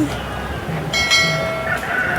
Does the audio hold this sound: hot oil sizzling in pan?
no